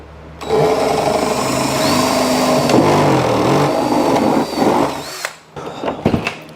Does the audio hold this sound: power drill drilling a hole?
yes